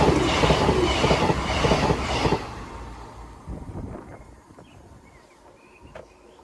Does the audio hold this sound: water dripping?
no